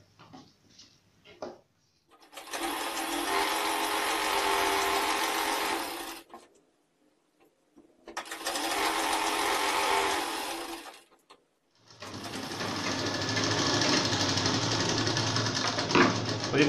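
A sewing machine stitches pajama pant pieces together in three long steady runs of fast rattling, loud and close, with short quiet pauses and light handling noises between them.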